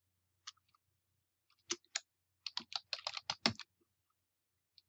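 Keystrokes on a computer keyboard while building web page links, a sparse run of close clicks that starts with a few isolated taps and then speeds into quick bursts before trailing off.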